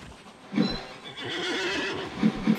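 Horse neighing in the Disney Infinity video game, two whinnying bursts with hoof clip-clop, loud and close, no talk.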